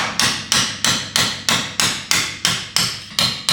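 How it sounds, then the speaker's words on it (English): Metal rings out as a hammer strikes a punch ten times in an even, steady rhythm while removing a part from a 1979 Mercury Cougar XR7, each blow sharp and close with a short ringing decay. "Get a hammer, a punch, set it right on here."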